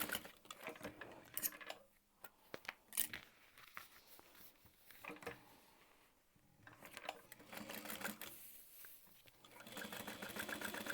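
A sewing machine top-stitches an accent side panel in fabric, running in intermittent close bursts broken by quiet pauses and light handling clatter.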